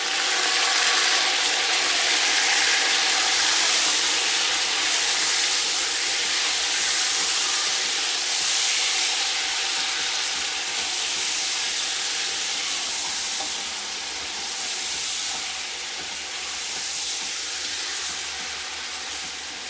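Chicken pieces for chicken korma fry in oil in a pot, giving a loud, steady hiss and sizzle close up that eases slightly toward the end, with no talking.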